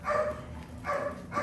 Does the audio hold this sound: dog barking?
yes